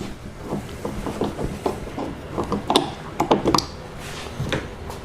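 A screwdriver works a screw out of a dirty mirror switch panel on a Hyundai Sonata, giving close, irregular scraping and clicking mechanical sounds with a few sharper ticks, no talking.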